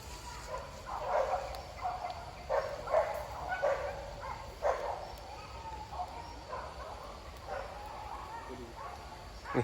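A dog barks repeatedly at a distance in a forest during a hunt, several short woofs spread across the clip over a quiet outdoor background.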